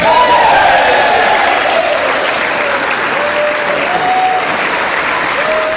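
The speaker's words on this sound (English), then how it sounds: "you see them giving the applause, Representative Mike Johnson." Loud, sustained applause fills the chamber of the House of Representatives after the vote electing Mike Johnson as Speaker, a dense roar of clapping that continues without pause.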